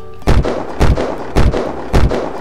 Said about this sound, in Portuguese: Vou dar mais uns tiros aqui pra finalizar o vídeo.